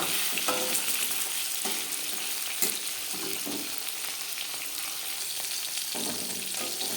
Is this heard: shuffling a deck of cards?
no